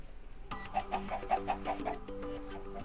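A Minecraft chicken near a barn with other animals gives a quick run of about seven evenly spaced clucks, close and clear, over soft tonal background sounds.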